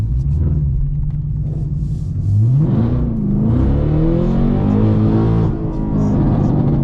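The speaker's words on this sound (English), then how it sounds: "Let's go ahead and open that exhaust up." A Camaro ZL1 or Cadillac CT5-V Blackwing engine with open exhaust rumbles deeply, then revs up and down with rising and falling pitch, loud and close, its exhaust growling throughout.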